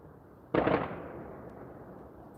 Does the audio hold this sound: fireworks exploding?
yes